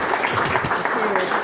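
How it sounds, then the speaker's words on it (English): Students at a final presentations session give a brief round of applause, scattered clapping mixed with talking voices. "So give yourself a round of applause too."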